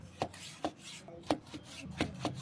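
Knife slicing through a tomato on a cutting board, with about six distinct sharp cutting strokes at an uneven pace, close and fairly quiet, and no talk.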